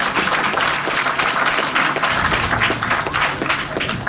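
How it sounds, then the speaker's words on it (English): Loud, dense applause from an audience at the Rose Hill Primary rededication, honoring the school's principal, a steady wash of many hands clapping close by for a few seconds. "let's clap the leader"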